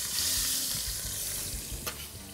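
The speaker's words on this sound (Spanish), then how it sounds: "Pues añadimos cebolla." Onion dropped into hot oil for swordfish escabeche, giving a loud close sizzle and crackle with a few stirring knocks, alone without talking.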